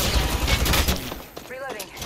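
Rapid bursts of gunfire from an Apex Legends match on the Olympus map, loud and dense in the first second, then thinning out beneath a short in-game voice line.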